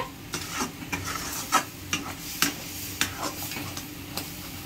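Masala spices fry in oil in a pan for Cuttack-style aloo dum, a steady soft sizzle broken by repeated scraping stirs of a spoon against the pan, close and fairly quiet with no talking.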